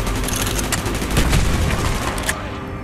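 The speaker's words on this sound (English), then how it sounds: "Gunfire's drawing attention." Gunfire in the Call of Duty: Black Ops (2010) campaign, a dense, continuous stretch of rapid shots and bursts that stays loud throughout, with no speech over it.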